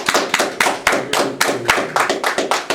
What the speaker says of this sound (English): Okay, clap, please.